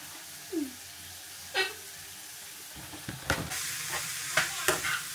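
Jackfruit sautéed in a pan in a home kitchen: soft sizzling with a few spoon stirs and scrapes against the pan, fairly quiet and without talk.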